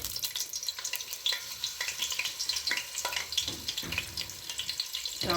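Margarine melts in hot oil in a pot for chicken biryani, giving a close, crackling sizzle with dense irregular pops and spits that continues steadily without any talking.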